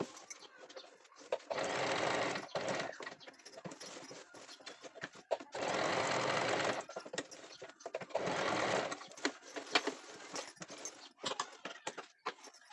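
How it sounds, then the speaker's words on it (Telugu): An electric sewing machine zigzag stitching the border of a saree, running in three distinct bursts of steady mechanical whirring with quieter pauses and small handling clicks between them. "ఇప్పుడు చీర అంచులు కూడా కుడతాను"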